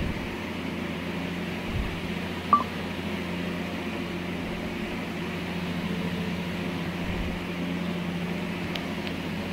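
French fries deep-frying in a pan of hot bubbling oil, giving a steady, even hiss and sizzle throughout with a faint click partway in, and no voices.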